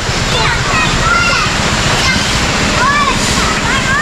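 Children splash while bathing in a river at a forest campsite, a steady broadband wash of water running throughout, with bird chirps above and no clear talk.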